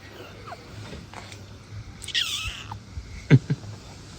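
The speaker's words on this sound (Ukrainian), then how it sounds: "Який котик." A cat gives a soft, drawn-out meow, followed by a couple of short low knocks in a quiet room.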